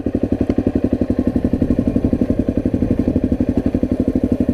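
Small Honda 250 motorcycle on a steep forest trail, its single engine putting along in a fast, even, close-up chug that holds steady throughout.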